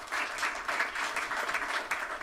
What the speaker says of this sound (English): So please give them a round of applause for all their hard work.